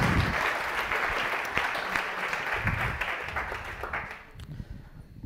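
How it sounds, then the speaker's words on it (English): An audience applauds for Luca before his talk, a moderate crowd clapping steadily and then thinning toward the end, with a few louder claps standing out. "Please give another round of applause for Luca"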